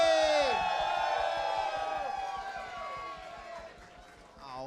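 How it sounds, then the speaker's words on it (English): An audience whoops and cheers at a drag show as a performer leaves the stage, the loud crowd noise slowly fading under an excited voice. "you're going to get a big cheer as you leave the stage"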